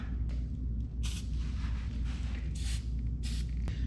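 Aerosol lubricant sprayed from a can onto parts during a 1963 Ford Loadstar truck build, heard as several short hissing bursts over a steady low shop rumble.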